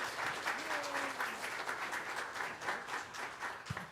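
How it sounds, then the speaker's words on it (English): Applause from a church congregation at a Sunday service, steady clapping filling the room throughout, with faint voices and a brief whistle-like tone mixed in. "A round of applause, please."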